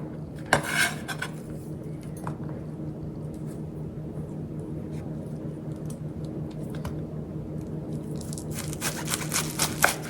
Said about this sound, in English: now that we have our cabbage cut into sticks